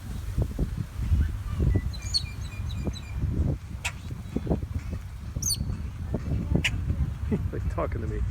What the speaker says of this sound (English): He is one loud bird. Birds out here crazy loud.